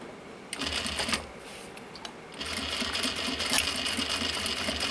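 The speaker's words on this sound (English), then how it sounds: "I'm top stitching right along the edge here" A sewing machine top stitches along the edge of a recycled denim pouch, running in two steady bursts with a short pause between them, close and fairly loud, with no talking.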